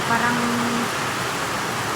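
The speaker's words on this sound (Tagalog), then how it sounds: "Ayan, napakalakas po ng ulan." Heavy rain pouring down in Taiwan, a loud, dense, steady hiss of falling water that fills the scene evenly from start to finish, with a brief faint tone near the start.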